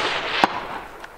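A single sharp rifle shot cracks out toward a distant target, followed by a fainter echo or impact a moment later.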